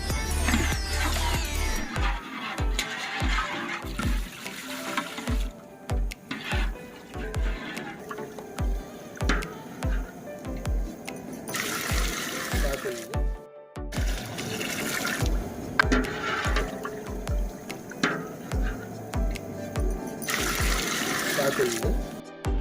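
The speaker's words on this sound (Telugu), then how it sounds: "వాటర్ పోస్తున్నా." Water splashes and pours in short bursts into a pot of bagara rice, mixed with kitchen clatter, rhythmic low thumps and occasional talking.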